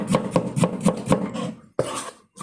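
A dull kitchen knife chops food on a cutting board in quick, steady strokes for about a second and a half, then pauses before a few more chops, close and clear with no talking.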